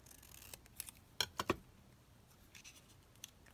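Scissors snip through a paper craft piece in a few quick, close cuts clustered together, set against a quiet room.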